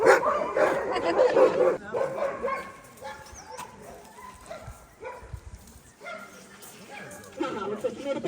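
Sled dogs at a kennel in Denali National Park, Alaska, barking, yipping and whimpering in repeated bursts, some close and loud, others farther off, mixed under a person talking.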